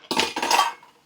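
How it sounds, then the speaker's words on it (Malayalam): Dishes being washed: a quick, close clatter of metal pots and cutlery knocking together in one short burst that fades out. "അത് അവിടെ ആവുന്ന സമയം നമുക്ക് ഒരു ലോഡ് പാത്രം കഴുകാനുണ്ട്"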